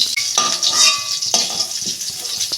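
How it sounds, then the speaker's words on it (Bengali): Tomato frying in oil in a pan sizzles steadily, with a few close metallic scrapes and clinks of a spatula against the pan. "এই যে টমেটোটা আমি ভেজে দিচ্ছি"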